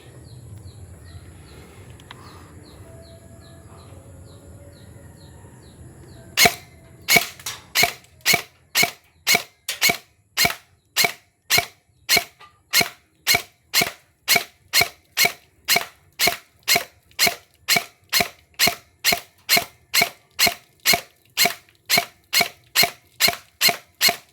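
A Lancer Tactical airsoft rifle running on an 11.1V 1600mAh LiPo battery is fired at a plastic paint container. After a few quiet seconds comes a long run of about forty sharp, evenly spaced shots at a brisk, steady pace, close and loud.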